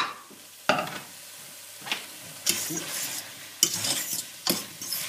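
Sausages go back into a hot pan for a rougaille, a modest sizzle punctuated by five or six distinct spatula scrapes and clinks of metal against the pan, fairly close and without talk.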